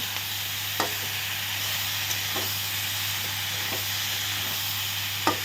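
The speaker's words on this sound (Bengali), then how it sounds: "এখন সব কিছু দিয়ে একসঙ্গে কষিয়ে নেব" Bottle gourd greens stir-fry in a pan with a constant soft hiss and steam, broken by a few brief scrapes of the spatula at irregular intervals.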